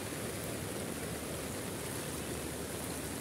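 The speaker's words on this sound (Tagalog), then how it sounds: "Madami ang tubig. Daming tubig." Typhoon floodwater rushes past in a constant, dense roar, like a torrent or waterfall, steady throughout with no voices heard.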